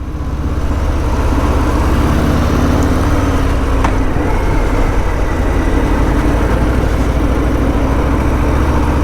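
A Harley-Davidson Fat Boy motorcycle rides over rough, patchy roads with a loud, continuous low engine rumble and wind noise that stays steady and close throughout.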